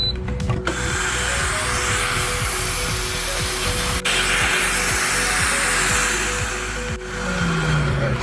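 Electric air pump inflating a Bestway SaluSpa portable hot tub, a loud, steady motorized drone with a rough buzzing rattle that runs continuously, with brief dips, and no talk.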